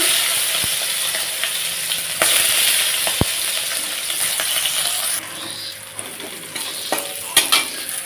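Garlic cloves and slit green chillies fry loudly in hot oil, a dense close sizzle that shifts as the pieces are stirred, with a few sharp metallic clinks of utensil on pan.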